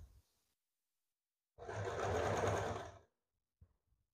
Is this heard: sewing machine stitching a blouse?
yes